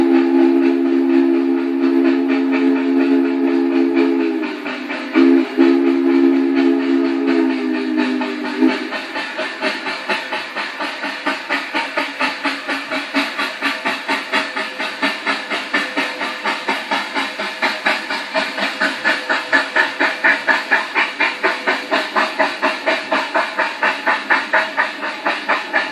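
Nickel Plate Road 765 steam locomotive, class S2 2-8-4, running on the line near Horseshoe Curve: a loud chord whistle blows for several seconds, then rhythmic steam exhaust chuffs and hissing steam pulse steadily and grow busier.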